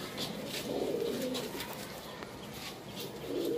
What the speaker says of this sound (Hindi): ये अस्सी नंबर कबूतर है हमारा बड़ा जोड़ा है